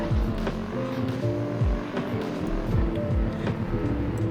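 An Audi RSQ8 blasting from 0 to 60 mph, its engine note climbing steeply and dropping at each quick upshift in a repeating pattern, loud and close throughout the hard launch.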